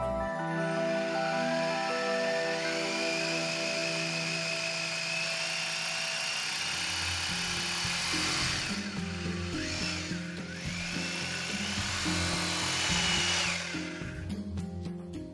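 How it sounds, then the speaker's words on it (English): A power drill with a suitable bit bores holes into a wall to fix a water heater's mounting bracket, giving a loud, steady whining drone that holds continuously with slight pitch shifts throughout. "make holes in the wall using an appropriate drill bit"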